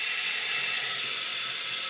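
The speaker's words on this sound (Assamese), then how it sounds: "এতিয়া মই ইয়াতে দাইলখিনি দি দিম" Soaked dal going into hot oil gives a steady, bright hiss and sizzle that holds evenly throughout, close and moderately loud, with no talking.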